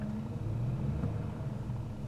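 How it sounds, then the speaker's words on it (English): A Ford F150 truck engine idles with a steady low rumble and a constant groaning hum from worn tensioner pulley bearings, close and unchanging. "I have tensioner pulleys that the bearings are groaning"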